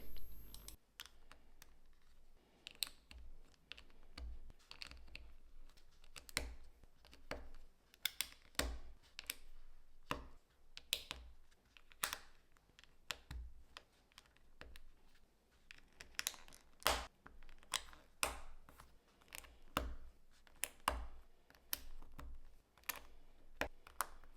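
LEGO bricks snap together during a build of a magnet-powered race track, a series of sharp, irregular plastic clicks close up with quiet gaps between them.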